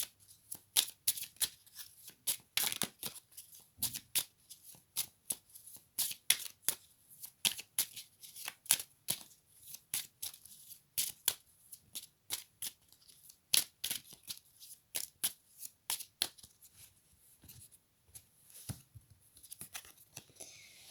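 Cards are shuffled for a card reading, a long run of close, quiet riffling and flicking bursts in an uneven rhythm, with no voice.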